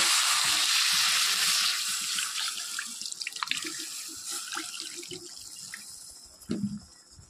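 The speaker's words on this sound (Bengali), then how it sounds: "এখন আমি এর মধ্যে পরিমাণ মতন জল দিয়ে দেব।" Water poured into a hot pan of hilsa fish head and taro greens, a loud rushing splash at first that eases into softer sizzling and bubbling, with a few utensil clinks near the end.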